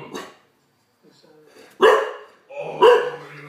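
An Olde English Bulldogge gives two loud, close barks about a second apart, with someone talking softly before them.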